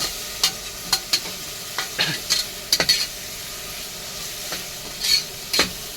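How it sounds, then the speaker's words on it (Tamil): Chopped onions fry in a pan for tomato rice, a soft sizzle running underneath while a spatula scrapes and clinks against the pan in irregular close strokes. "வெங்காயம் நல்லா கிண்டுங்க."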